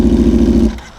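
Yamaha R6 sport motorcycle with a cut exhaust giving one loud, close, rough engine rev that holds steady for most of a second, then drops away quickly into quiet.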